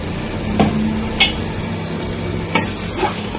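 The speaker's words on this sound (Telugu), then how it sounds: "తగులుతూ ఉంటే అల్లం వెల్లుల్లి పేస్ట్ వేస్తానండి" Ginger garlic paste frying in a pan for Andhra-style fish curry: a steady close sizzle with a few sharp clicks of a spoon against the pan, and no talk.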